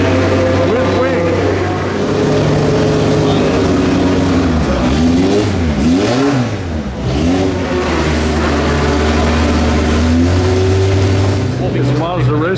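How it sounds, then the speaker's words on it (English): A McLaren race car driven by Jensen Button in a track demonstration at Mazda Raceway during Monterey Motorsports week, its engine droning and shifting pitch continuously, loud and close, with rising and falling revs mixed with background voices. "It's going to be a demonstration with Jensen Button on this McLaren."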